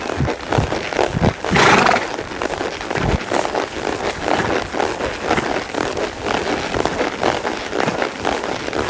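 Tennessee Walking Horse walking out of a show-ring gait, hooves thudding in a steady four-beat rhythm on a noisy outdoor track, fairly close, with broadband hiss and a brief louder rush partway through.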